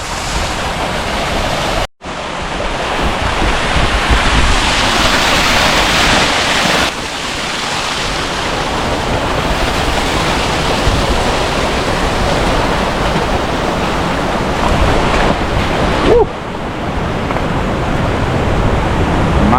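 Rushing water roars close and loud near a river's source by an old mill in Benaoján, a steady broadband torrent that runs nearly the whole time, broken once by a brief dropout.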